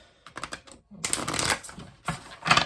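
Riffled tarot cards flutter in quick bursts, a few short shuffles followed by a longer rapid riffle, close and fairly loud with no talking.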